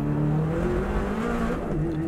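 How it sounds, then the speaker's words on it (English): A Subaru WRX STI races flat out on the Isle of Man course, its engine roaring at speed in a steady, loud rush with a brief falter in the drone. "The car just cut out then, so we had to wait a fraction until it came back in"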